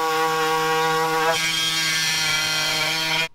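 A power cutting tool grinds through the rusted metal roof of a lifted limousine, a loud, steady high-pitched whine that shifts tone partway through and cuts off abruptly.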